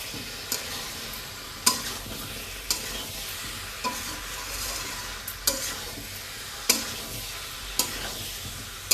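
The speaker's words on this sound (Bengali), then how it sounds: "এবার আমি ওল আর আলুগুলো সব দিয়ে দেব। এবার মশলার সঙ্গে সুন্দর করে কষিয়ে নেব।" Elephant foot yam and potatoes are stirred in spiced oil for a prawn and yam curry. A steady sizzle runs throughout, broken by about a dozen sharp spatula clicks against the pan at irregular intervals. No one speaks.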